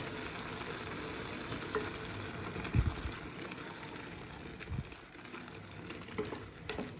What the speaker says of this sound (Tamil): இப்போ கிண்டி விடு.